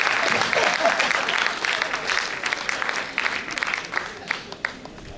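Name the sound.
audience applause at a poetry event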